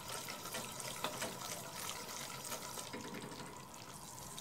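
Warm milk pours in a steady, continuous stream into a golden béchamel roux, a soft liquid rush heard close and at a low, even level throughout.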